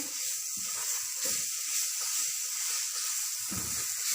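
Grated carrots roast with semolina in a pan for gajar halwa, giving a steady soft sizzle and hiss throughout, with a few faint low stirring knocks, close and with no talking.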